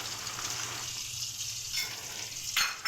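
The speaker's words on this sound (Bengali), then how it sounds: "আমি একটু পরে দিয়ে একটু ভেজে নিব চিংড়ি মাছগুলো" Prawns fry in a pan for chowmein, a soft steady sizzle with a brief clatter near the end, no voices.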